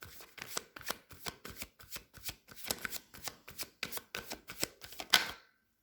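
Tarot cards shuffled by hand in a quick, steady run of crisp riffling slaps, about a dozen close bursts ending in one sharper snap before silence.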